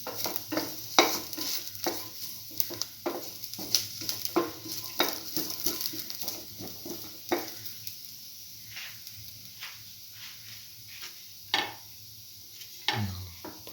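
Onion sautés in a pan for a coconut tamarind dip, with a soft, steady sizzle broken by many sharp scraping and clinking stirs in an irregular rhythm.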